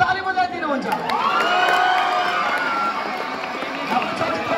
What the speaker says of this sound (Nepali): एकचोटि ताली बजाइदिनुहुन्छ